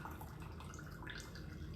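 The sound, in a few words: juices draining off cooked chicken tipped from pan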